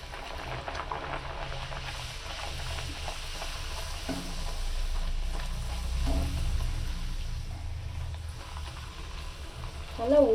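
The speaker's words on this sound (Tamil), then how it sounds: "அடுத்து பொரிக்கிறேன்." Oil sizzles and bubbles steadily as poori deep-fries, a soft continuous crackle with occasional stirring sounds.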